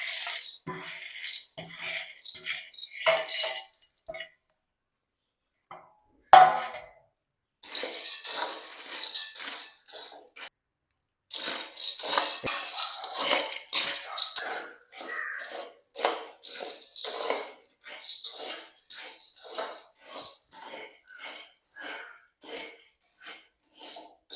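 Dried jamun seeds are roasted in a pan, producing bursts of dry rattling and scraping that stop and start, with a quiet gap early on, close and moderately loud.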